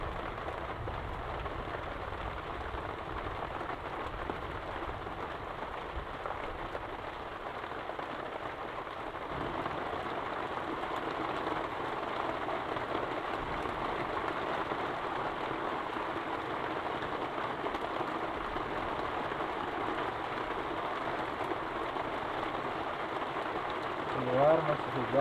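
Heavy rain pours down steadily outside a rustic hut where rice is being cooked over a wood fire, a constant close hiss and patter with no letup throughout.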